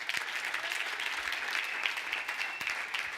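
A church congregation breaks into dense, sustained applause, a steady wash of clapping from many hands filling the room without a pause.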